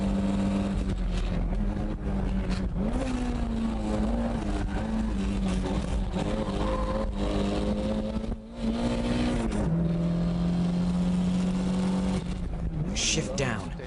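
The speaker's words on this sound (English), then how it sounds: "I'm flooring it. It's so cool. I wish Toyota could make cars like this again." A Toyota car engine revs hard under full throttle, its steady drone rising in pitch between gear changes, heard from inside the car over a continuous road roar.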